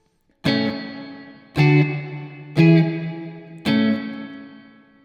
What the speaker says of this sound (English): So that's kind of what the plate sounds like right here.